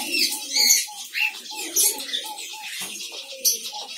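Diamond doves in a new cage giving repeated soft, evenly spaced coos close by, with scattered chirps and a few wing flutters mixed in.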